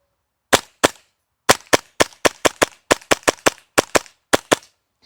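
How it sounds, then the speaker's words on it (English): A Tapp Airsoft KC02 hybrid HPA airsoft gun firing about fifteen sharp, snappy shots on pressurized air, some spaced and some in quick clusters, loud and close against near silence with no talking. "Let's fire off our first rounds"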